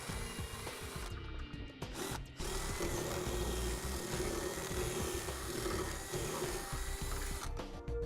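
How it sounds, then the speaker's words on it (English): Drill boring holes in the frame of a 2009 Ford Edge for a trailer hitch: a steady motor whir with a grinding buzz holds for several seconds, close and continuous, with a brief dip near the start. "Next we'll go ahead and take our drill bit and drill out the 2 remaining locations"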